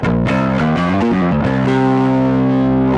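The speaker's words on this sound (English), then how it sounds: "do the distortion thing again. I'm going to crank the tone so you can hear that fizzy sort of quality." A bass guitar played through a distortion effect with the tone turned fully up gives a loud, fizzy, saturated sound, a few short notes changing early and then one sustained note ringing to the end.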